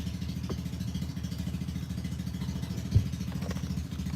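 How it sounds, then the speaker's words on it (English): A motorcycle engine rumbles steadily and close by, a continuous low throbbing with a brief knock partway through. "You heard somebody cut off a motorcycle."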